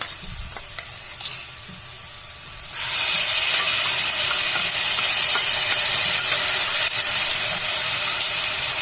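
Ginger-garlic paste dropped into a pan of fried onions, a quiet clinking start that bursts into a loud, steady hiss and sizzle of frying, close up and continuing evenly, no talking.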